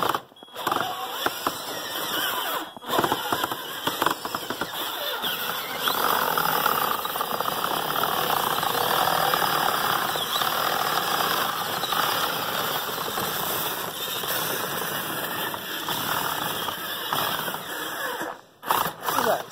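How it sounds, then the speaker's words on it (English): A grinding gearbox on a 24-volt 4x4 Power Wheels ride-on with a plow whirs and grinds steadily for most of the clip, near and fairly loud, with brief dropouts. "Something going on with that gearbox."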